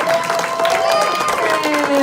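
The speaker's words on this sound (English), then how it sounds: "So please give her a big round of applause." Audience applause for actress Linnea Quigley at a horror film festival Q&A, dense steady clapping from a crowd filling the room, with cheering voices and shouts riding over it throughout.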